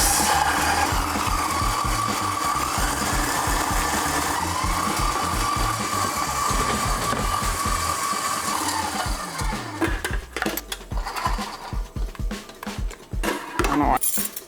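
An electric mixer whirs steadily for about ten seconds as it beats cheesecake batter in a bowl, and the drone then breaks into choppy, uneven bursts. A voice talks over the motor.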